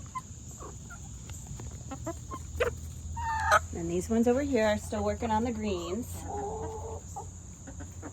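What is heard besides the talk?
chickens clucking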